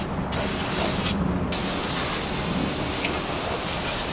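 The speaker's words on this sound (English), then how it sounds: "Then I'm gonna hit it with the pressure washer." A pressure washer blasts soot off a burnt 2016 GMC Yukon Denali, making a loud, steady, close hiss of high-pressure water with a couple of brief breaks in the jet.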